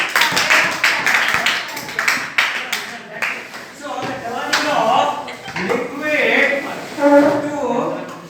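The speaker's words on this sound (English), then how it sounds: "Clap for him." A school class claps for a student during a physical science lesson in a classroom: a quick burst of close, ragged clapping that gives way to a teacher talking.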